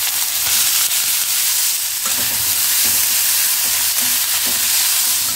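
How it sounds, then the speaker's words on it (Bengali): Chopped onion frying in hot mustard oil, a steady dense sizzle filling the whole span with occasional stirring scrapes, loud and close with no talking. "তেল গরম হয়ে গেলেই তাতে দিয়ে দেবো পেঁয়াজ কুচি"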